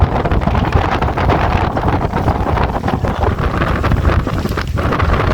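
Steady, strong wind buffets the microphone throughout, a constant roaring rumble with no pauses.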